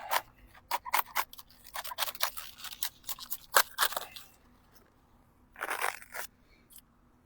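A summer cabbage is sliced open with a knife, a series of close, crisp crunching cuts in irregular bursts, pausing near the middle before a final dense crunch.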